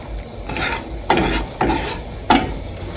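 Vegetables for a homegrown pumpkin soup sizzle in a hot pan while being stirred, a steady frying hiss broken by three sharp stirring scrapes.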